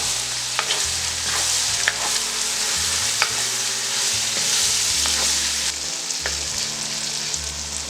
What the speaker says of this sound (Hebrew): אנחנו מטגנים הכל